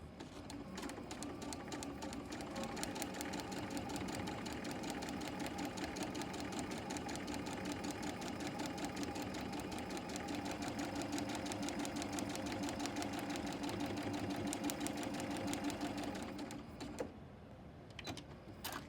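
A sewing machine stitches a quilt block for a Haunted House quilt in a steady, continuous mechanical whir that runs close and loud for about sixteen seconds, then cuts off, leaving a quieter tail.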